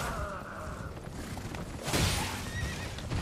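In Elden Ring, a horse whinnies loudly and close by, a shrill drawn-out neigh amid the clatter of hooves.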